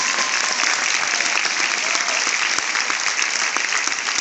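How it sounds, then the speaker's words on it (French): A crowd claps steadily at the finish of sailor Clarisse's Vendée Globe race, dense and sustained applause filling the whole stretch without a break. "Je crois qu'on peut encore applaudir à Clarisse."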